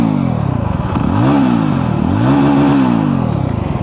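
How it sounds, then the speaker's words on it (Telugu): A 2026 Yezdi Roadster motorcycle's exhaust rumbles steadily at idle, then rises in two smooth throttle blips that swell and fall back, loud and close with no talking. "ఒకసారి ఎగ్జాస్ట్ సౌండ్ వినండి."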